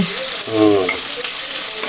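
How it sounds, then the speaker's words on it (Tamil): Vegetables sizzle and are stirred in a hot pan, a steady frying hiss with a few brief scraping tones, no voices. "கொஞ்சம் கிளறி விட்டு வேக வைங்க"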